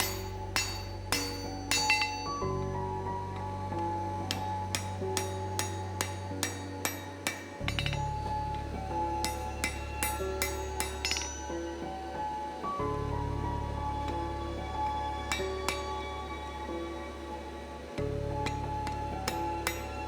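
Hot steel is hammered on an anvil while box jaw blacksmithing tongs are forged, giving close, loud, evenly spaced metallic strikes with ringing overtones, in bursts broken by short pauses.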